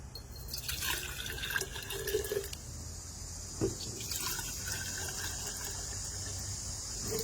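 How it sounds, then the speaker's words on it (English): Clear water poured into glass jars for a flower-colouring science experiment, a steady trickling flow with a few brief splashes and drips, fairly quiet and close, with no talking. "we're going to start first by putting some clear water into each jar"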